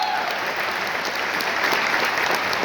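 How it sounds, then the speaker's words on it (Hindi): A large crowd at a business success talk in India breaks into loud, sustained applause, dense clapping filling the room without pause. "मिस्टर सिद्धार्थ जी के लिए पर जोरदार ताली कहूंगा।"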